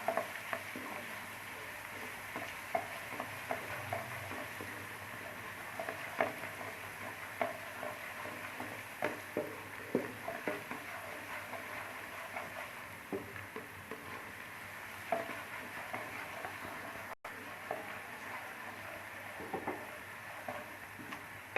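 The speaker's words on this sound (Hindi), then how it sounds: "लहसुन और अदरक का पेस्ट अच्छी तरह से फ्राई हो गया है" A soft, steady sizzle of ginger-garlic paste frying in a pan, with faint scraping stirs and small ticks throughout, fairly quiet and without talk.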